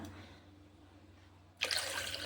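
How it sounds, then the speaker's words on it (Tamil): Water is poured into wheat flour in a pan for homemade halwa. After a quiet, humming kitchen pause comes a sudden close splashing pour that continues to the end. "மொத்தமாக அஞ்சு டம்ளர் தண்ணி இதில் சேர்த்துட்டோம்"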